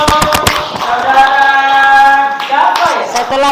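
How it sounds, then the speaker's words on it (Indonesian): Students applauding in an elementary classroom during a grade 5 lesson on charity and almsgiving: a short burst of claps at the start, then a teacher's voice carries on over a few scattered claps. "Tepuk tangan untuk saudara."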